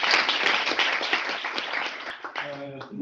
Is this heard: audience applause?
yes